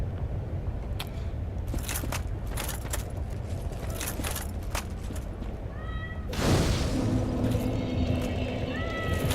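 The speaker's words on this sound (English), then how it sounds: "This cat, I swear to God." A cat gives a few short meows partway through, heard over continuous game sounds and clattering noise that turns into a louder rushing burst near the end.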